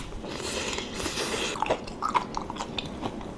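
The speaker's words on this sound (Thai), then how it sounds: "ต่อไปเฉาก๊วยชุบแป้งทอด กรอบนะ" Someone chewing crispy batter-fried grass jelly up close, soft wet mouth sounds building into sharp crunchy bites clustered in the second half, no talking.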